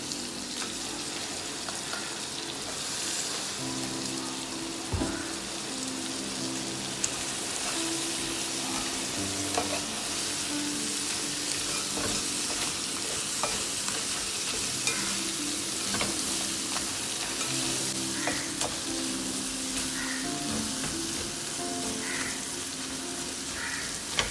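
About a kilo of crab sizzling and frying in a pan for a crab roast, a steady close sizzle with occasional stirring clinks and scrapes throughout, no one speaking.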